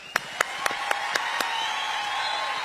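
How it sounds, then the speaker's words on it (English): A short burst of clapping at a memorial service in Pretoria, a few distinct loud claps in a slow rhythm over a steady background hum, trailing off quickly. "A big round of applause."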